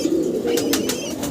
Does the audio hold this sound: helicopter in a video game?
no